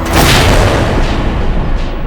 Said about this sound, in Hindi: मुगलों की तोपों ने हमारे दुर्ग के इतना निकट तक वार किया है